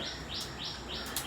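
High, thin chirps of newly hatched baby birds in a nest repeat in quick bursts over a steady background hiss, close by.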